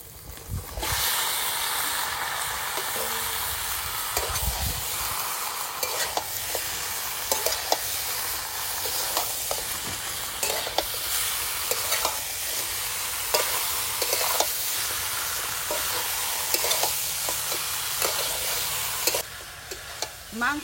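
Meat being stirred and fried in a pan with cooked-down spice paste and released oil, a steady close sizzle with repeated scraping stirs throughout, no talking.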